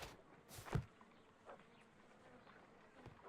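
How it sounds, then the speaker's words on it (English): Bees buzz softly and continuously in a quiet scene from a Sherlock Holmes game, with one brief louder thump near the start and no speech. "So many bees."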